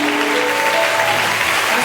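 A congregation at a church revival seminar breaks into steady, dense applause, a loud, even wash of clapping that fills the room throughout without pause.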